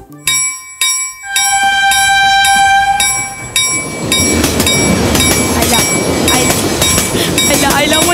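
A local train pulling into a station, its bell ringing repeatedly with steady tones over rising rumble and clatter of the arriving cars, loud and close throughout.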